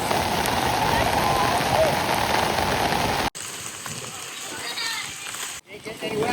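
Heavy rain from a storm at Disneyland pours onto surfaces in a dense, loud patter, then cuts to a quieter scene with lighter dripping and people talking.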